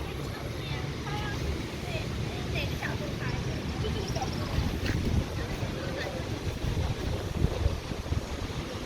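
Strong, steady wind roars and buffets the microphone during a storm in Vientiane, Laos, with continuous broadband noise and faint rattling in the background.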